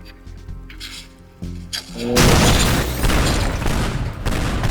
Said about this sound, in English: I'm gonna just place it right there. Detonate.